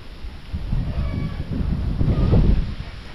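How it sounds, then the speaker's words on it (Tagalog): Steady low rumbling wind buffeting the microphone, swelling slightly louder toward the end, with no voices. "Hangin."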